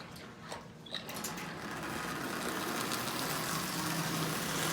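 Marx toy train running on a $6 double reduction motor swapped into an 898 wind-up locomotive shell and pulling Lionel cars, giving a steady close whirring hum that builds and then holds, with no talk.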